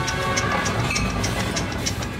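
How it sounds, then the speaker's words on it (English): A cartoon-style train sound effect plays: a steady rumbling rhythm of clacking wheels with a soft hiss. It is loud and alone, with no voices over it. "Do you hear that? It's the idea train."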